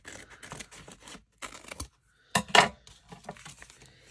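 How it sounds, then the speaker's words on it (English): Scissors snip through thick, threaded fabric in short bursts of sharp clipping and scraping, close and fairly quiet, with brief pauses between the cuts. "I'll have to go back in with my scissors"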